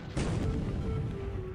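Naval guns open fire at night in War in the Pacific, a sudden heavy boom that then rolls and rumbles for over a second, loud and deep, with no voices over it.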